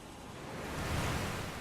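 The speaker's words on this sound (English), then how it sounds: "It's a tremendous show of the great force of water." Water at Niagara Falls, swollen with snowmelt, rushes in a dense, steady broadband roar that swells slightly, heard alone without voices.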